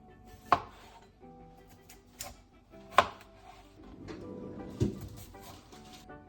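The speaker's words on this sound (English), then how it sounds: "So we'll start chopping." A knife chops vegetables on a cutting board in a few sharp, scattered knocks, with quieter scraping and clatter between strikes.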